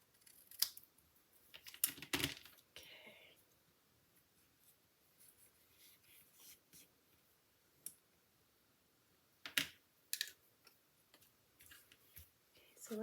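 Craft card stock being cut at an angle with scissors, giving a few sharp snips and clicks spread across a quiet tabletop, close and fairly soft, with long gaps between cuts.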